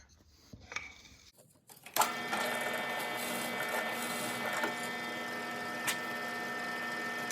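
A step bit drills holes in metal for a Bowie rasp knife: a short start and stop, then a loud steady whining grind that runs on without a break. Nobody speaks.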